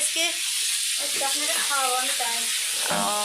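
Fish frying in a pan gives a steady close sizzle and hiss, with a voice talking over the cooking noise throughout.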